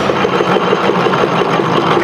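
A Macleods (Nelson Brothers) Model TA 1 3/4 HP stationary engine runs with its governor weights spread, giving a steady, close, rhythmic chugging and clatter that continues throughout.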